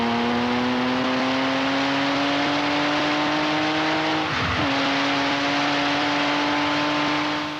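A Lamborghini 12-cylinder engine holds a loud, steady high rev with strong harmonic tones, dips briefly in a sharp blip about midway, then climbs back to its sustained howl.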